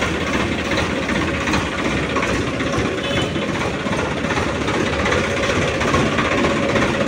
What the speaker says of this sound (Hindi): तो आवाज़ आपको ऐसी कुछ मिल जाती है ट्रैक्टर की।